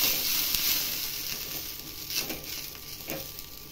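Water sprinkled onto a hot dosa tawa gives a soft, continuous hiss with a few brief sharper bursts of sizzle, quiet and with no voices.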